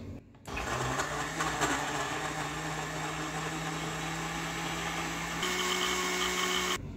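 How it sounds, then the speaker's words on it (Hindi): A blender whirs steadily as it blends a strawberry pineapple smoothie, starting with a click, holding an even motor whine that shifts pitch near the end, then stopping abruptly. "सब चीजें ब्लेंडर में डाल ली हैं। अब मैं इसको कवर करके इसको स्टार्ट करूंगी।"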